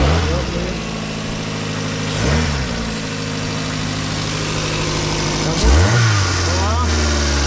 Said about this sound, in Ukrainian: Все, машинка пошла работать.